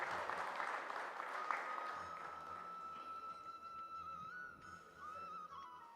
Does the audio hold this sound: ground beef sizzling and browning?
no